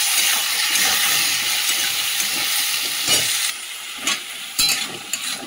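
Potatoes, onions and a bay leaf fry in a pan with a constant bright sizzle, broken toward the end by a few scrapes and knocks as the pieces are stirred.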